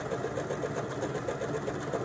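Janome DKS 100 sewing machine running a decorative stitch, a close, steady, rhythmic motor whir with a regular needle pulse and no talking.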